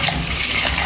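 Ayira fish being washed in water in a kitchen, a steady close gush and slosh of running water, loud and continuous with no talk.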